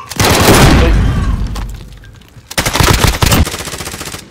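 Loud, close machine gun fire from a first-person shooter video game, rapid dense bursts in two long runs separated by a short lull, with a faint voice briefly under the shooting.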